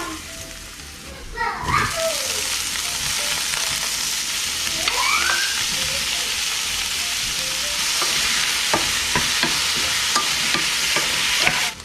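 Minced garlic sizzles loudly in a hot pan, with a steady frying hiss and scraping stir strokes that grow more frequent toward the end; a voice and other speech can be heard briefly near the start.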